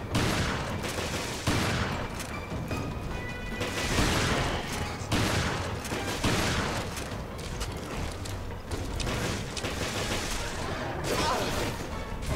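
Gunfire in the horror shooter Resident Evil Revelations, a close series of loud sharp shots and mechanical clatter repeating every second or two over a dense, noisy game backdrop.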